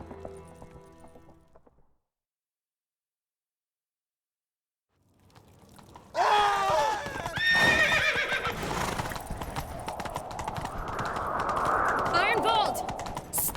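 Horses in The Witcher 3 break into loud, close whinnies and then a rushing gallop of pounding hooves after a brief silence, with voices talking over the action.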